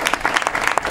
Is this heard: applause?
yes